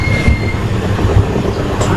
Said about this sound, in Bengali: এখানে ট্রেন বেশ কিছুটা স্লো হলো